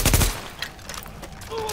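Gunfire in The Division, a loud burst of shots at the start, then scattered fainter reports and game effects, with a tonal whine toward the end.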